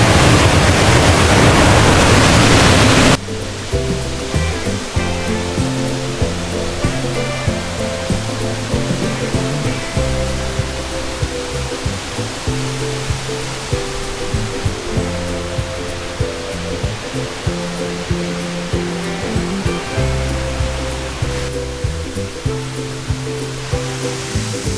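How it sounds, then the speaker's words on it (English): Water rushing beneath wooden stairways built over waterfalls at Plitvice Lakes in Croatia, a loud continuous roar, with repeated footsteps thudding rhythmically on the boards throughout. "Actually noticing that a lot of these stairways are built over waterfalls because there's water rushing"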